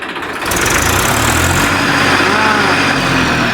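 A tractor engine runs loud and close, rising from a lower idle into a steady, harder-working rev that holds without a break, with a faint voice beneath the engine noise.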